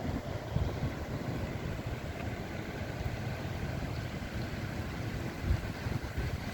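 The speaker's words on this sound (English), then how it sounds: "Ooh, wind is really picking up now." Rising wind ahead of an approaching monsoon storm, a steady, full roar with low buffeting against the microphone and a few stronger gusts, continuous and fairly loud with no voices.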